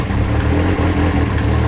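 Rebuilt rear engine of a twin-engine Corsa idling close by with a steady, loud low rumble, no voices present.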